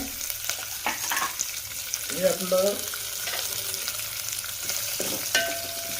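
Green chillies and curry leaves tempering in hot oil for Maharashtrian kadhi, giving a steady close sizzle with a few stirring scrapes and a brief tonal clink partway through.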